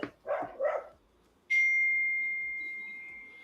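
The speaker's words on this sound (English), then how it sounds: "Hang on, let me yell at my dogs." Dogs barking nearby: two quick, loud barks close together at the start, followed by a pause and then a long, steady electronic tone that slowly fades.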